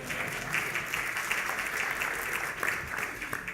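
An audience at a press association awards ceremony gives steady, moderately loud applause, a continuous wash of many hands clapping throughout with no break.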